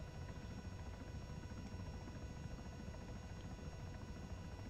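A CH-67 Huron helicopter in ARMA 3 drones steadily with its rotors and turbine, a constant low, even whine heard from inside or close by, with no speech.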